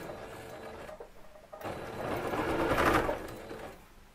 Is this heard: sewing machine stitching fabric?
yes